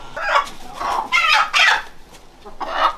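Large, heavy old farm hens weighing about ten catties each cluck loudly and close by, in a series of agitated squawking bursts separated by short gaps.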